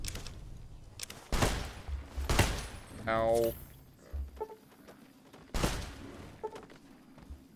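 Gunfire in Fallout New Vegas, several sharp shots in bursts over a few seconds with a rapid rattling volley mid-way, fairly faint and mixed with game sounds and a brief spoken exclamation.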